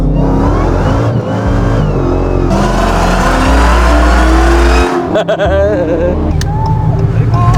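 A Dodge Challenger Hellcat engine revs hard, its loud roar climbing and falling in pitch through repeated blips, with voices and chatter mixed in near the car.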